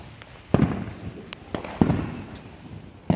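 Fourth of July fireworks burst outdoors in a series of sharp, booming explosions about a second apart, each followed by a short rumbling tail, with crackling pops in between.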